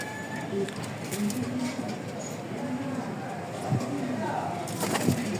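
American Birmingham Roller pigeons at a pigeon farm coo softly and intermittently in the background while someone talks over them nearby.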